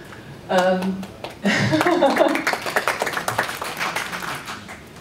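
Late-evening applause from a conference panel audience, a brief voice followed by a ragged burst of clapping that fades over a few seconds.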